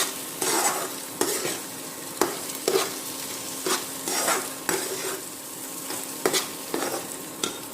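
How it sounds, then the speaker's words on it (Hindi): Grated carrots for carrot halwa sizzle in a pan under a spoon that scrapes and stirs in a steady rhythm, with sharp clinks of metal against the pan. The sound is close and loud. "इसे कम से कम 10 से 15 मिनट तक आप इसे अच्छी तरह से भूनें"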